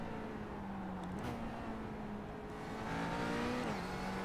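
A McLaren GT4 race car in a sim racing game at Hockenheim, its engine droning steadily at high revs with pitch shifts at gear changes, loud and continuous with no talk.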